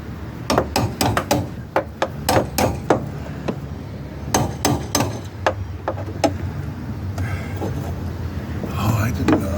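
A hammer drives a long punch against the sagging hinge of a broken car door during a repair. The blows are loud, close metallic strikes, some in quick bursts and some spaced apart, with a short pause before a few final hits.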